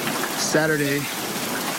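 Graupel falls steadily in North Hollywood, California, giving a dense, even hiss like heavy rain that runs through the whole stretch. A voice speaks briefly over it.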